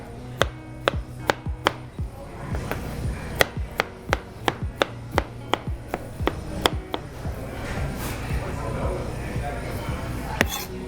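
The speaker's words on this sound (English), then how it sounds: "There goes all your pineapple ready cut up for you. So now all you gotta do is just cube it up." Knife chopping ripe pineapple into cubes on a cutting board, a quick series of sharp, close taps with some uneven pauses, steady through the clip and growing denser and softer near the end.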